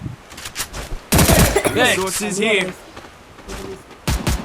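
Rapid gunfire from a weapon in the video game Free Fire bursts out loud in two dense volleys, with a short quieter gap between them and further clatter near the end.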